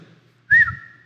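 A single short human whistle, a brief rising-then-falling tone over a low background hum.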